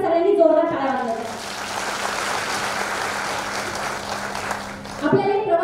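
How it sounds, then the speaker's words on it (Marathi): An audience at a lecture breaks into dense, sustained applause that swells for about four seconds, with a voice speaking just before it starts and again as it fades. "एकदा सगळ्यांनी जोरदार टाळ्या वाजवायच्या"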